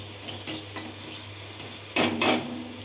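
Tempering stirred into cooked chana dal with cucumber in a pot, heard as a few sharp metal scrapes and clanks of a ladle against the pot, the last two louder, over a low background hum.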